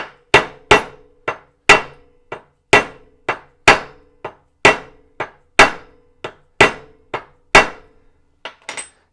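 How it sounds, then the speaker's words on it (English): A hammer taps screwdrivers into a broken bolt, about sixteen sharp metallic strikes in a steady, even rhythm, each ringing briefly. The blows are loud and close, with no voices. "I just take a plain screwdriver, tap it in a little bit, get another screwdriver,"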